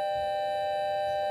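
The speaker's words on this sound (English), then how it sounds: "Apologize about that loud bell." A loud, steady electric school bell rings in a classroom, a sustained ringing tone that holds without a break for the whole moment.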